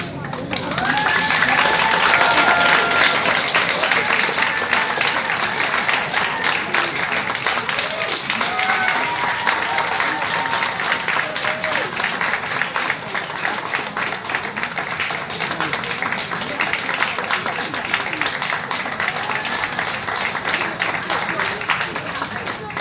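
Audience applause after a poem recital at a library's 20th anniversary celebration, a sustained wash of many hands clapping with scattered voices mixed in throughout.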